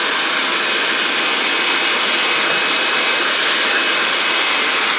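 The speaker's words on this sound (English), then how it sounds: "a little hair dryer." A small hair dryer blows steadily and close up for the whole stretch, a constant broadband whoosh at even loudness, used while securing LED lighting strips on a LEGO Friends Botanical Garden set.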